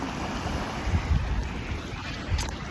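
A breeze off the water buffets the microphone in a low, steady rumble, with gentle waves washing in the background and a couple of stronger gusts.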